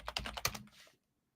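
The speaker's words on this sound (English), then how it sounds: "See what I'm typing in." Quick bursts of typing on a computer keyboard, a handful of close, crisp key clicks in rapid succession that trail off into silence after about a second.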